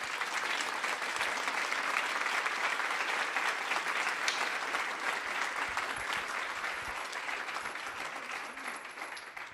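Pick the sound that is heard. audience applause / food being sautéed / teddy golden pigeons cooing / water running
audience applause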